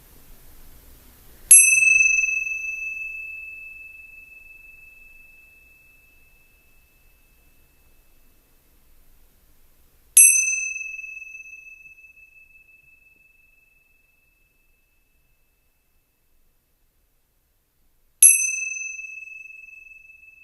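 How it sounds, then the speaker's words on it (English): Meditation bell struck three times at wide, uneven intervals, each a clear bright ding with a long ringing decay fading to silence, alone and close. "we listen to the sound of the bell with gratitude for the Dharma we just heard"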